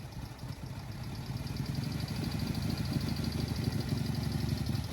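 A 1934 Jowett Tourer's engine runs steadily as the car is driven, a close, continuous low throbbing drone that grows slightly louder over the few seconds, with no talk.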